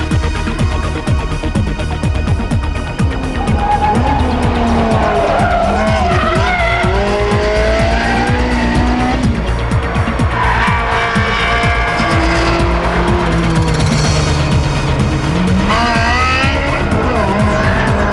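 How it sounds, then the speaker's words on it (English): A Ferrari 360 with an F1 gearbox driven hard around the Fiorano circuit, loud engine revving and shifting pitch, with long tire squeals and skidding throughout, close and continuous. "put the handling to the test on Ferrari's own Fiorano circuit"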